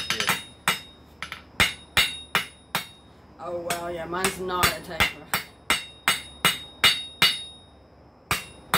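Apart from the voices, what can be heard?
hammer striking metal on an anvil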